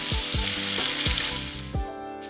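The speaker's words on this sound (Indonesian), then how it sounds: "Tumis sampai bumbu layu dan berubah warna." Spice paste with lemongrass, galangal, bay leaves and kaffir lime leaves sizzles loudly in hot oil for sambal goreng kentang, with a steady crackle and a few stirring scrapes, close and continuous.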